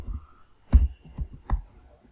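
A few sharp computer keyboard and mouse clicks, sparse and close in a quiet room, with uneven pauses between them.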